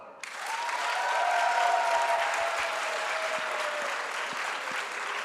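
Sustained applause from a debate audience voting for the opposing team, dense steady clapping that starts abruptly and holds at an even level throughout, with a few faint voices and a brief whistle-like tone mixed in.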